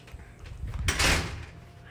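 A coat closet door in a house opens with a short, soft swish and bump near the middle, amid quiet indoor room noise.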